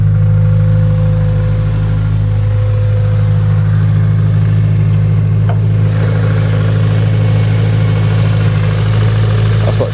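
A Honda Civic Type R EP3 idles steadily with a low, even engine drone close by, holding a constant note with slight fluctuations throughout, no voices present.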